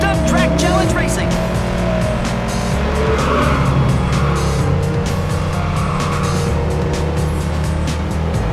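Race cars tear around a track in the Hot Wheels Stunt Track Challenge video game. Loud engine roar runs steadily throughout, with tire squeals and skids over a game music bed, and announcer speech is partly heard.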